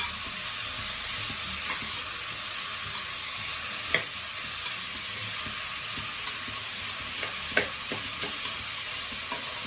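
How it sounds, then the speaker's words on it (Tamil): Potato masala filling with onions and salt sautés in a pan, giving a steady close sizzle of frying under occasional light scrapes and clicks from a stirring spoon, with no talking. "நல்லா வதங்கட்டும்."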